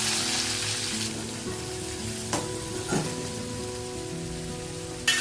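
Sliced onion dropped into hot oil already tempered with mustard seeds, cumin, asafoetida and curry leaves, giving a loud, continuous close sizzle with a few sharp clatters of stirring and no talking.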